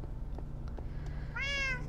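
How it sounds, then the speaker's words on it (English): A cat in a modded Minecraft survival game lets out a single clear, rising-then-falling meow near the end. Before it there is only a steady low background hum and a few faint clicks. "Meow."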